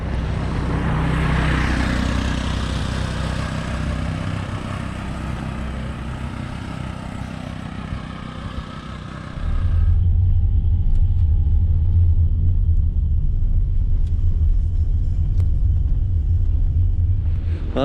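A car rumbles close by on a mountain road in Chiapas, with a steady broadband engine and road noise that shifts to a deeper, louder idling rumble as it stops, with no voices.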